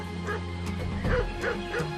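Hunting dogs on an island bark and yelp over and over at a steady pace, loud and close, with a low rumbling bed beneath the barking.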